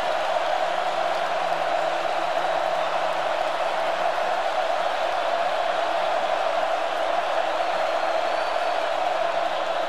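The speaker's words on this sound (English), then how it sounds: "But listen to this crowd on a third and long." Huge college football stadium crowd roaring on a third-and-long at the Swamp, a dense, constant wall of noise that stays loud and steady throughout without letting up.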